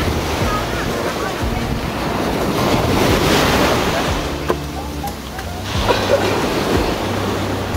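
Big sea waves crashing continuously on a long beach on Bach Long Vi island in the Gulf of Tonkin, with a loud, dense roar of surf and heavy wind buffeting the microphone.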